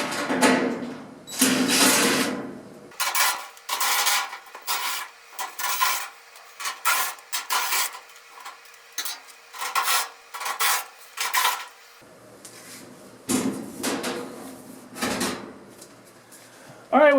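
Screws being backed out of a dryer's rear panel with quarter-inch hardware, producing repeated raspy scraping and rubbing bursts with clunks as the back panel is worked loose, close up, with occasional low voices.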